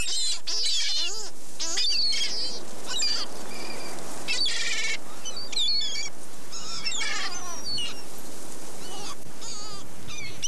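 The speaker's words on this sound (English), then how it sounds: "Flocks of gulls and other seabirds hover impatiently over feeding areas, expecting leftovers" Flocks of gulls and other seabirds crowd over a whale feeding area at sea, a dense, overlapping chorus of shrill cries and squawks, loud and close throughout with no talking.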